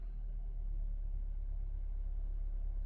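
Small 1.2-litre car engine idling after a push-button start, a steady low rumble heard close up and continuous throughout with no talking.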